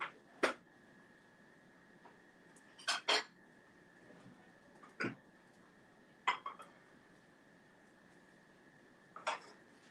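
Dishes and cutlery clink and clatter in a kitchen as a plate is taken out after a blender demo for corn fritters, several sharp separate knocks spread over quiet room tone, no talk.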